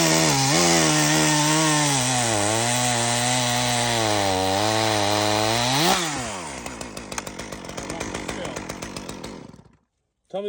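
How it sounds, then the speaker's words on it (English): Stihl petrol chainsaw cutting wood in an electric-versus-petrol comparison, loud and close, with the engine held at a high wavering rev before dropping into a rougher, sputtering cut and then cutting out near the end. "So let's get the Stihl and try that."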